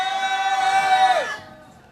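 A crowd at a candlelight rally in Seongju against the THAAD deployment gives one loud, sustained cheer together. The cheer holds steady, then drops in pitch and fades out.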